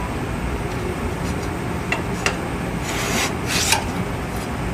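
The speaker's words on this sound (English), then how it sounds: "just scrape it all along, make sure you get everything off that you can" A metal scraper is dragged along a Nieco broiler to clear off residue, making a continuous close rasping scrape with a few brief louder strokes.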